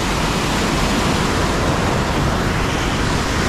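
Forceful water pouring down Maranatty waterfall, a loud, dense, unbroken roar of rushing water filling the whole scene at close range.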